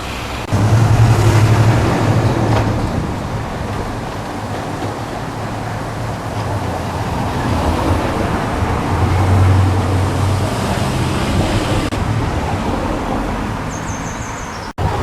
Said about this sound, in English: As you can hear, there's plenty of traffic.